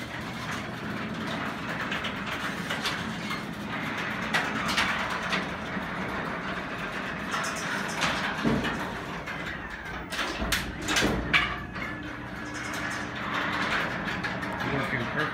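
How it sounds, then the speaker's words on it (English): A garage door opener runs with a continuous mechanical rumble and rattling, interrupted by a few sharper clanks, with someone talking over it at times. "when I was testing the garage door opener, it was very noisy."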